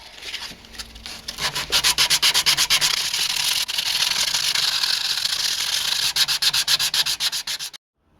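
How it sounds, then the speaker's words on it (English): Rhythmic rasping strokes of 80-grit sandpaper rubbed by hand across wood, a fast steady back-and-forth scratching, close up, pausing briefly midway and ending abruptly. "Just starting sanding down now to finish it off."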